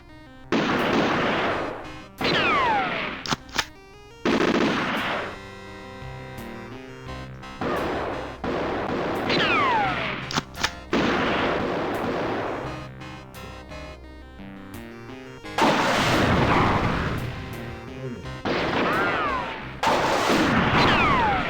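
Gunfire in a shooting gallery from the video game Eraser: Turnabout, loud repeated bursts of shots and crashing impacts in clustered volleys separated by brief ringing gaps and quieter stretches, with no talking.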